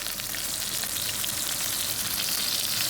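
A ribeye steak sears in butter in a cast iron pan, giving a steady, dense, close sizzle and crackle that holds evenly throughout with no voices.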